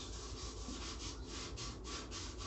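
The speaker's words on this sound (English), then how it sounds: "So I'm going to sand this" A sticky guitar neck being sanded by hand, rhythmic back-and-forth rubbing strokes at a steady pace, close and fairly quiet, with no talking.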